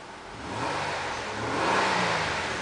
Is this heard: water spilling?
no